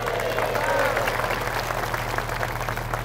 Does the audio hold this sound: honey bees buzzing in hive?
no